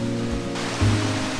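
A waterfall at Eynort on the Isle of Skye roars as a steady broadband rush of falling water, loud and continuous with a few low tonal hums underneath.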